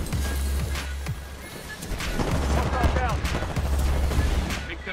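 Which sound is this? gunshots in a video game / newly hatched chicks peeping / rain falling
gunshots in a video game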